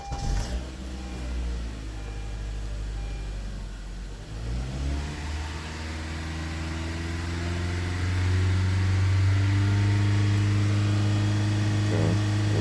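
A 2013 Honda Accord Sport engine starts and is held at about 3,000 RPM, rising from a low idle into a steady, louder sustained drone with a stable tone, heard close and alone.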